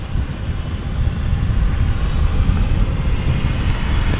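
Aircraft engines at London City Airport, a loud, steady jet roar that builds slightly and holds over the whole stretch, close by, with no talking.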